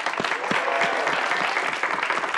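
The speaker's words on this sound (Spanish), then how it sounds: "Un aplauso para ambos equipos" A crowd's sustained applause for both teams after a university competition result is announced, a dense wash of clapping with a few louder hand claps standing out.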